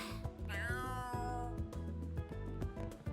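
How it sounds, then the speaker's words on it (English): A cat meows repeatedly in the video game Trails Through Daybreak, with rising tonal calls over a busy game music background. "Is that how cats sound?"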